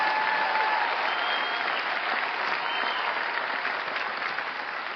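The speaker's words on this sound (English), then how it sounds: "I know you're clapping" Broad, sustained applause from a large audience at the 97th Academy Awards ceremony, a continuous wash of clapping that holds level and fades slightly toward the end, with no talk over it.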